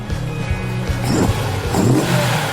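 A Lamborghini V8 engine with freshly balanced carburettors revs loudly up close in quick, uneven bursts over a rough idle, with no voices.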